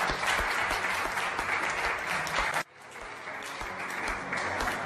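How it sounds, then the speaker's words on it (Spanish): A church congregation breaks into steady, dense applause that fills the space, dropping suddenly partway through and then building back to a full, sustained clapping crowd with no speech over it. "Cada uno le dé un fuerte aplauso al Señor."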